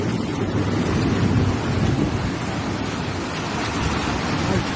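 Heavy rain in Çiğli, İzmir, has turned the streets into flowing water, and it comes through as a loud, steady roar of rushing runoff and downpour, broad and continuous with no voices.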